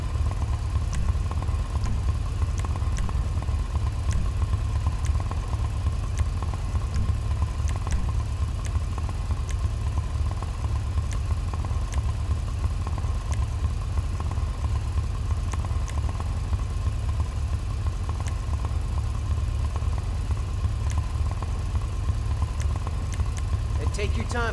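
Western Daemon Custom motorcycle from the GTA V Bikers update idling in the game, a steady low engine rumble held throughout under continuous background music and a voice.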